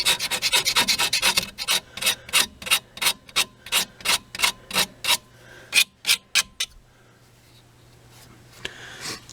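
Rapid, rhythmic scrubbing strokes rasp against the metal surface of a wheel bearing backing plate on a Saturn Vue AWD being cleaned flat, close and loud, slowing into spaced single rubs before fading out.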